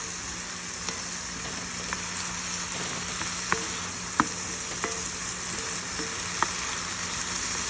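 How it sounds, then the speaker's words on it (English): Onions and garlic sauté in butter with a steady, soft sizzle, broken by occasional sharp pops and light stirring taps, all close. "that's onions and garlic butter. We're gonna let this saute down."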